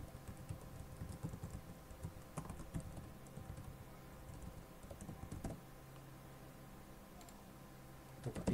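Close, quiet typing on a computer keyboard, a run of quick irregular key clicks that thins out, pauses, then resumes briefly, with no talk.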